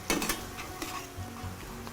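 Pasta being stirred and folded in a skillet over reduced heat with cheese, sauce and butter, giving a soft sizzle with scraping and clinking of the utensil against the pan, steady and close.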